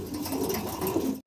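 Pigeons coo in low, continuous murmuring bursts while being handled at a pigeon seller's stall, close and steady for about a second before cutting out.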